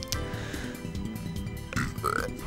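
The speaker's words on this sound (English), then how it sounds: "I keep burping on camera" A man burps after drinking Dr. Pepper, a short guttural eructation at close range, with faint game music and effects running underneath.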